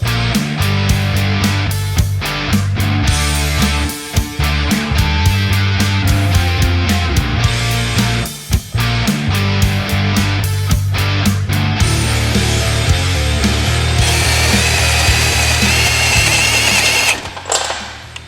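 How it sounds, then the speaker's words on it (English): A power drill with its bit dipped in WD-40 whirs loudly and steadily, its motor pitch holding for long stretches, with brief stops and restarts and grinding bites into metal on a Segway Villain. "I'm gonna just put my drill bit in the WD-40 and drill it."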